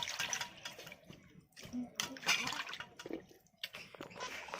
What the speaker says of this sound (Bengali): পরিষ্কার করে আমি ধুয়ে নিচ্ছি চিকেনটাকে।